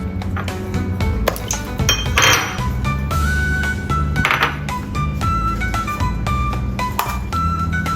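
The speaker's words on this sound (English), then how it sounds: "Add all ingredients into soup pot." Ingredients for a ginseng herbal chicken soup dropping into a soup pot, with repeated clinks and knocks of solid pieces against the pot, close and fairly loud, arriving in irregular bursts with short pauses between them.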